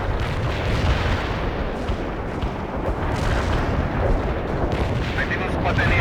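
A continuous artillery barrage in the video game World in Conflict, a dense, loud rumble of overlapping blasts and booms filling the whole stretch without pause.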